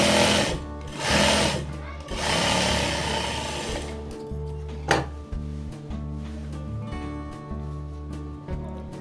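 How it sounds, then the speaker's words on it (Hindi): Sewing machine double-stitching the seams of a long palazzo, running in repeated bursts of steady mechanical whirring with short pauses between, close and loud, with a voice talking at times. "इस पे डबल सिलाई कर लेंगे।"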